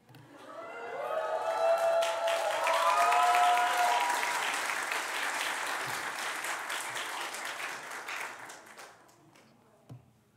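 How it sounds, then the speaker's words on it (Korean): Wedding guests in a church break into applause after the bride and groom kiss, clapping swelling quickly to a dense, sustained roar mixed with a few whoops, then fading away near the end. "홍복 형제, 네, 박수는 좀 기다려 주세요"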